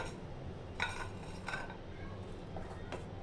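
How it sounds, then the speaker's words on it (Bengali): Tomato rice is served onto a plate, with a few light clinks and scrapes of utensil against dishware over a quiet kitchen background and no speech. "একটা প্লেট নিলাম, প্লেটে নিয়ে নিলাম"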